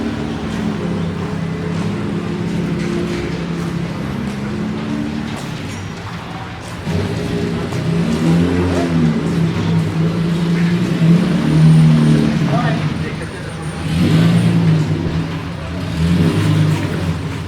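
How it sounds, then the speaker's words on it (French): Engine noise from Porsche and BMW cars passing nearby at a classic car event, with a steady low rumble and a couple of louder swells as vehicles accelerate past. "Là, on a de la Porsche, de la BM."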